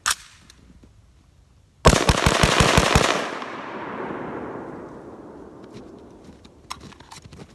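A 7.62x39 AR rifle fires one loud shot, then a fast string of close shots from a 10-round magazine echoing outdoors, the reverberation trailing off into quiet.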